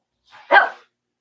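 A female dog lets out one short, sharp bark close by during a backyard meat-smoking session, with silence before and after.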